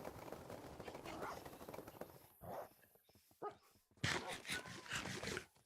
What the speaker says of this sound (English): some of those wolf barks are like, they don't sound very good. They sound like the wolf is in danger